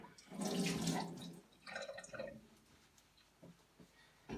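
Water splashes into a plaster mix being prepared for a Cub Scout plaque mold, a brief watery pour and slosh up front followed by fainter stirring and trickling sounds.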